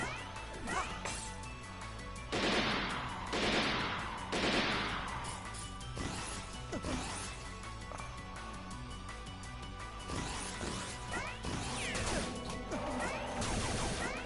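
Shooting an enemy in the video game Mighty No. 9 brings rapid bursts of blasting impacts and crashing hits, several loud clustered shots amid busy game music and effects.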